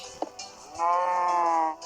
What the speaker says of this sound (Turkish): Eğer ben bunu koyunca e, inek sesi gelecek.